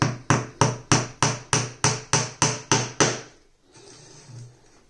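Hammer tapping gimp pins into a wooden beehive frame, about ten sharp, evenly spaced close blows in quick rhythm, then quiet handling.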